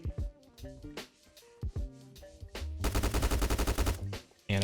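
Gunfire in the online survival game Apocalypse Rising 2, heard first as scattered single shots and then as a rapid automatic burst, crisp and fairly close, with no talk over it.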